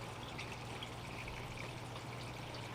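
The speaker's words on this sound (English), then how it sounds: "put a new water pump in there, so we got a little bit more water flow to work with" Water from a newly installed pump pouring through a sluice box used for running paydirt, a continuous even rush and trickle at moderate level with no other sounds.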